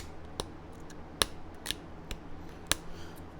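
A flint point is trimmed by pressure flaking, giving crisp, sharp snapping clicks, about five or six irregularly spaced flakes popping off close up against a quiet background, with no speech.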